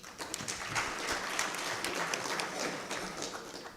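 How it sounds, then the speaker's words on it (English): An audience at a university book launch breaks into a warm round of applause, many hands clapping in a dense, even patter with scattered sharper claps, sustained for several seconds without talk. "give you a big round of applause"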